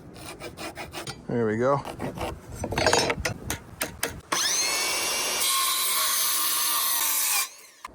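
A handsaw cuts the end off a pallet 2x4 for a workbench, rasping strokes up close, then a longer continuous cut; a voice speaks briefly partway through.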